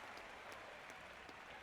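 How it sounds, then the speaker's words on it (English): A ballpark crowd in a baseball video game applauds a nice defensive play, a faint, steady wash of clapping with no clear peaks. "Angels fans applaud that nice play"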